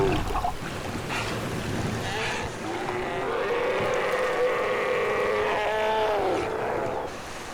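Low, drawn-out sea lion calls rise and wobble over a steady wash of surf and wind on a rocky Sea of Okhotsk coast, loud and close, with no talking.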